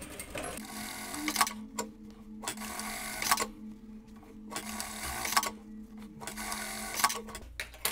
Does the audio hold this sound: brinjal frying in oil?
no